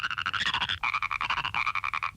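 Cartoon frogs croak in a fast rhythmic chorus, loud and close, a rapid pulsing series of nasal ribbits that briefly shifts pitch midway and carries on with no speech.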